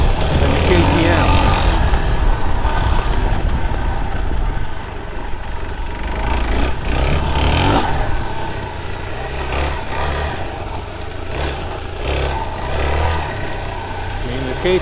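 A Suzuki DR-Z400S dirt bike engine runs loud and close on a wooded trail loop, its revs rising and falling through the turns while a rider talks over it.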